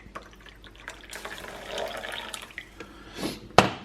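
Tap water runs softly into a sink during washing up, with a faint steady stream, light splashes and a few sharper knocks and drips toward the end.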